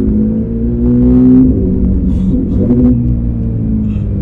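A one-off Porsche GT3 RS Twin Turbo, rated around 800 hp, idles and revs with a deep, close rumble and a rising engine note, with no talking.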